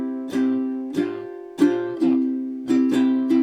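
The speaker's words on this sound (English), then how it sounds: "That second bar of that pattern is actually our classic ukulele strum" Ukulele strummed in a swung down-down-up-down-up pattern, a bright sustained chord with crisp stroke attacks recurring at a steady groove, played alone and close.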